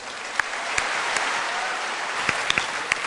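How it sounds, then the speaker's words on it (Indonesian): A studio audience on an Indonesian talk show breaks into loud, sustained applause, dense clapping throughout with a few sharper individual claps standing out near the end. "Boleh tepuk tangan Pak Yusuf Kala."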